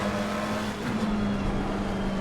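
A McLaren GT3 race car at Red Bull Ring in the Assetto Corsa Competizione racing game, its engine holding a steady, fairly quiet tone over a brief stretch with faint background road noise.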